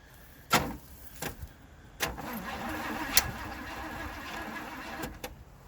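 A Chevrolet Caprice 4x4's engine cranks over on a freshly charged battery, with a few sharp clunks and a steady churning starter rumble, close by without catching.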